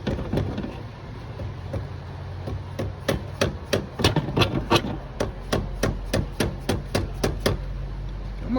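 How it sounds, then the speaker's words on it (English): Big hammer beating on a GY6 scooter engine part during a 50cc to 100cc big bore kit install, first scattered knocks, then a fast, steady run of sharp metallic blows close up. "Let's just beat on this with this big eye hammer."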